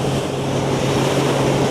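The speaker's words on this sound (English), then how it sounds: "I can barely hear the bike over the wind noise coming through my helmet" Wind roars through a motorcycle helmet on a moving 2021 Kawasaki Z900, a dense, constant rush that buries the four-cylinder engine beneath it.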